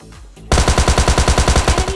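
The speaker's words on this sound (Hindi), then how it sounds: "50 गोली वाले थॉम्सन लेके चढ़ जाएंगे भाई, 50 गोली यानी मिनी वो है मशीन गन" Thompson submachine gun fired in PUBG Lite, a loud, rapid burst of evenly spaced shots beginning abruptly after a brief quiet moment and running continuously to the end.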